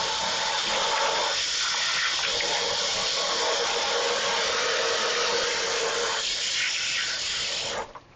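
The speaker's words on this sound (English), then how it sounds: "Let me wash my hands real quick." Water runs steadily from a kitchen tap for several seconds, a loud, continuous broadband gush with hands moving under it, then cuts off abruptly at the end.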